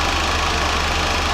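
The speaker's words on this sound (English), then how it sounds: "And it's running. I don't have a high idle, but it's running." A Chevrolet C10 Stepside truck engine idles at low speed with no throttle, giving a steady, close, even rumble with a faint knock running through it.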